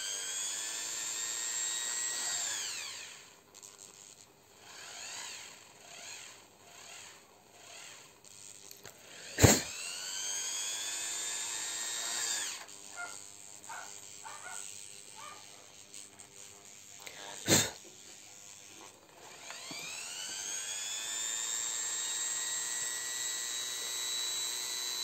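A small rotary burr tool whines at high pitch as it enlarges a hole in a resin heart, its tone dipping under load and rising again, with two sharp clicks along the way; no talk.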